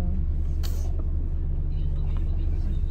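Steady low road rumble inside a moving car crowded with passengers, continuous and fairly loud throughout, with a brief faint voice early on.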